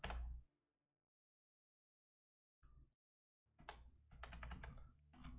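Computer keyboard keys are pressed in a quick burst at the start, then after a long silence come brief taps and a rapid, insistent run of clattering keystrokes, all close and crisp.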